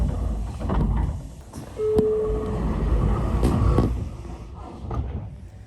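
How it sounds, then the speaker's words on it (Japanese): A train arrives at Ijuin Station on the Kagoshima Main Line in Japan, rumbling and clanking at low speed with metallic knocks and a brief squeal, steady mechanical noise all around. "さあ、列車は伊集院駅に到着しました。"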